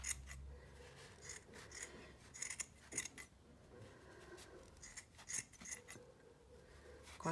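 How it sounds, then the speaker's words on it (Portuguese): Scissors snip through a knitted hat, a series of quiet, close, crisp cuts in an irregular rhythm. "Então, a gente vai cortar aqui, ó."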